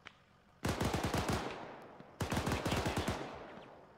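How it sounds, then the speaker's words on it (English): Two distant bursts of automatic gunfire in Arma 3 crack out in rapid strings, each starting abruptly and trailing off with echo, the second about a second and a half after the first. "Shots southwest,"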